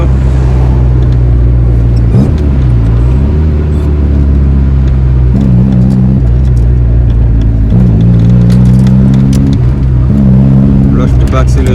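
A 1995 Honda Civic MA8 with a faulty ignition distributor drones steadily while driving. Its engine pitch dips and climbs in a few gentle rev swells, with someone talking over it close by.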